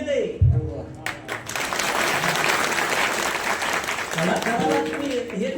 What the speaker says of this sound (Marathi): फक्त तुम्ही टाळी वाजवायची.